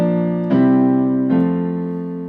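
A 1-4-5-1 chord progression in F, likely on piano or keyboard, sounds as loud, sustained chords changing at distinct attacks, the final one ringing and slowly decaying, with no talking.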